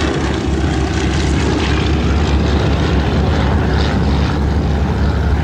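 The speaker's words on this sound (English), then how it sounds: "The Boeing Stearman, the open cockpit biplane, and the Navy version EN2S." A vintage Boeing Stearman open-cockpit biplane primary trainer flies past with a loud, steady propeller-engine drone that holds throughout, heard alongside other trainer aircraft at a World War II air show.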